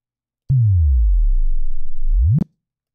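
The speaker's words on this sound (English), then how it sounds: "a nice little sub drop there" Synthesized sub drop transition made in Operator: a pure low sine tone that falls steeply from a sharp click, rumbles low and steady for nearly two seconds, then sweeps back up into a bright click, loud and alone.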